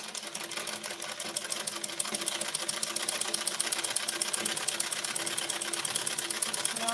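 A sewing machine stitches a blouse with a continuous rapid rattling hum and evenly pulsing needle strokes, close and steady throughout.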